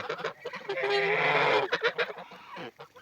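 A young goose or gander, about four months old, gives a loud nasal honking call that swells for a second or so, with a few shorter honks around it close by.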